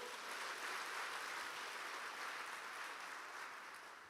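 Church congregation applauding during a worship service, a loud, even wash of many hands clapping together that fades slightly toward the end.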